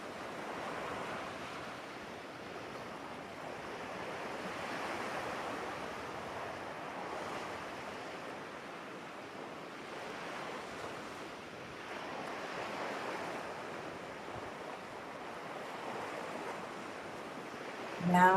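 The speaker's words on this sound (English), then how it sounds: "Now take the time to enjoy the ocean for a few minutes." Ocean waves wash onto a beach in a steady, broad surf roar that swells and recedes in slow cycles, with no voices.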